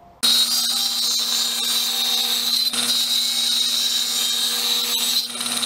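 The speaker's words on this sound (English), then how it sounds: "jump back over to the table saw." Table saw running steadily in a woodworking shop while making a wooden hand plane, a loud continuous high whine with a motor hum underneath that holds for several seconds after starting up, with a brief dip near the end.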